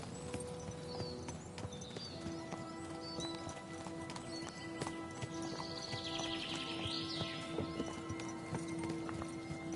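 Horse hooves clip-clopping in the video game Kingdom Come Deliverance 2, a steady walking rhythm of hoofbeats with a horse whinnying partway through, set against faint ambient game music and background noise.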